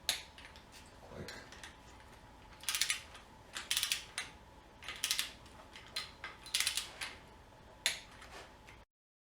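A torque wrench clicks repeatedly while tightening timing cover bolts during reassembly of a Nissan Infiniti VK45DE 4.5-liter V8 engine: sharp, close mechanical clicks in short bunched bursts, separated by quiet pauses.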